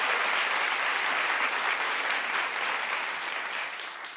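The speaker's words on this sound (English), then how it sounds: "Clap if you're outraged." A television talk show studio audience clapping on cue: dense, loud, continuous applause from a large crowd that holds steady and tapers slightly at the end, with no voices over it.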